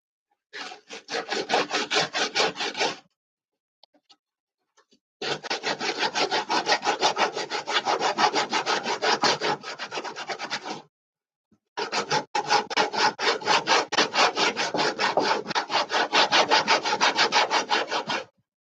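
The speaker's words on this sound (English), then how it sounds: "Where's my high grit sandpaper?" High grit sandpaper rubbed over wood while building a laptop stand: quick, steady back-and-forth strokes, close and loud, in three long bursts separated by short pauses, with no talking.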